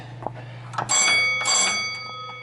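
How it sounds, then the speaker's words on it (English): A bell on a restored 1924 Mancha Mule electric mine locomotive rings out clearly, two bright sustained metallic clangs that keep humming as they fade, heard close after a few faint knocks. "There's the bell."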